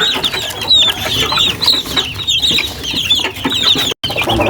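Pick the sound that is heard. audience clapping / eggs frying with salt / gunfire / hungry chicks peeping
hungry chicks peeping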